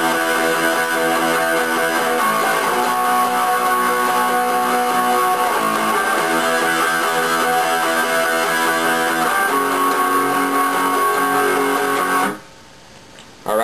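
Guitar strumming the chorus of a song, loud, dense chords played steadily for about twelve seconds before stopping abruptly, with no voice over it.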